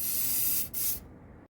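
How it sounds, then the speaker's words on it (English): A close, loud hiss of aerosol penetrating oil spray in two quick bursts, the second cutting off sharply. "always best to give it a spray"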